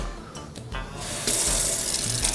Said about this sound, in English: Give all of this a little rinse. Clean up our cutting board.